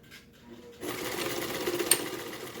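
Domestic sewing machine stitching a seam on a pleated fabric face mask, a steady rapid mechanical whirr that starts abruptly after a brief quiet moment and runs continuously, close and moderately loud, with a small knock near the end.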